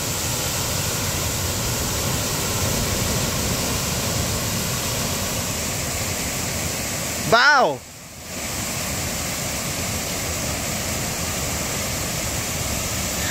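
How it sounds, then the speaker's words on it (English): Waterfall at Queen's Bath on Kauai, a steady broad roar of falling water heard close and continuous, with a brief loud exclaiming voice and a short dip midway. "So this is the crazy waterfall."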